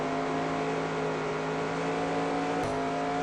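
A NASCAR race car engine held at full throttle at Sears Point in NASCAR Racing 2002, a steady loud high-pitched drone with a small bump near the end, no talk.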